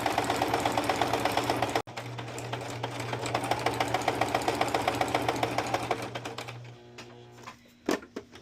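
A sewing machine stitches through paper in a fast, steady mechanical chatter with a low motor hum, pausing briefly, then resuming before slowing and stopping with a few clunks near the end.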